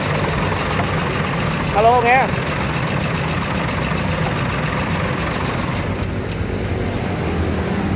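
A tractor engine, Iseki or John Deere, runs steadily at a smooth idle, its low rumble continuous throughout, while a person speaks briefly nearby.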